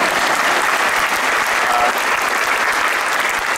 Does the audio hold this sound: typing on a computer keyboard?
no